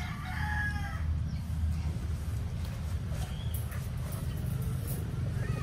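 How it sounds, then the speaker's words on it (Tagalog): A pure-bred gamefowl rooster bought from AAJ Farm in Batangas crows amid steady low background rumble, with faint bird calls and no talk. "ito naman yung isang tandang natin sa AAJ din na nabili."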